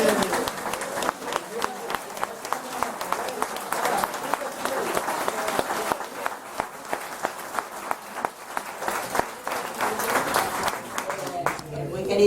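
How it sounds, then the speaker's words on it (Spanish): An audience at a political pre-campaign event in an adult education centre in Moratalaz claps steadily, with continuous, moderately loud applause and overlapping voices for about twelve seconds. "muchísimas gracias por vuestra cordialidad y vuestros aplausos"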